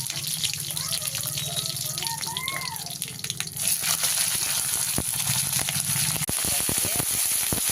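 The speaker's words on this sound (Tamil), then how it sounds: "கடுகு நல்லா பொரிஞ்ச உடனே காஞ்ச மிளகாய், பச்சை மிளகாய், காஞ்ச மிளகாய் போட்டுக்கலாம்." Mustard seeds and dried and green chillies frying in hot oil, a steady sizzle that turns harsher and louder halfway through, with scattered pops and crackles and a voice talking over the first part.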